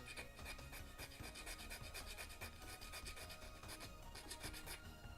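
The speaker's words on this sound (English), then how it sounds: "I should say filing down because, you know, it's a bit faster" Hand file rasping down the sides of a small plastic robot model part, a steady close scraping stroke rhythm, quiet and alone.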